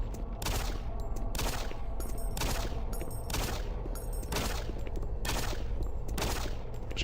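Gunfire in the DOOM 3 video game, aimed at a chain gunner, comes as about a dozen loud, evenly spaced shots over a continuous dense roar of game noise, with no talking.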